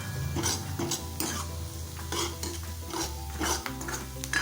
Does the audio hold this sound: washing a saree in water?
no